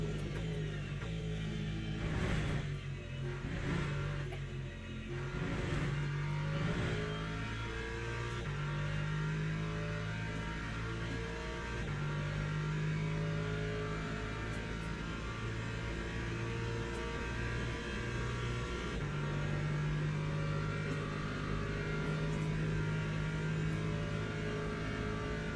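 Race car engine from the video game Le Mans Ultimate running a lap on cold tyres at Laguna Seca, with a continuous close engine drone that rises and falls through revving, shifts and accelerations.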